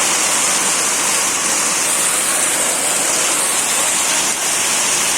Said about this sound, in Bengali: প্রচুর বৃষ্টি, প্রচুর পরিমাণ বৃষ্টি হচ্ছে